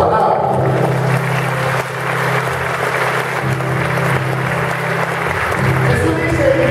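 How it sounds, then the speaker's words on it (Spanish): Applause rises from a church prayer group gathering, a loud, sustained wash of clapping that continues steadily with a low hum beneath it. "Palabra de Dios, y aplauso a esa palabra."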